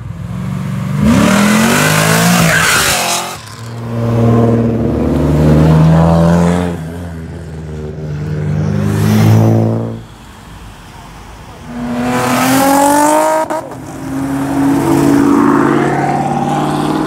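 At a large car meet, a supercharged car revs hard in three or four loud surges, the engine climbing and falling in pitch with supercharger whine, close and dominant, with short quieter gaps between the bursts.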